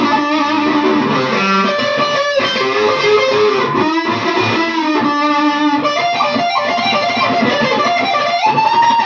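Distorted electric guitar solo with bends over a band backing of bass and drums, loud and continuous throughout.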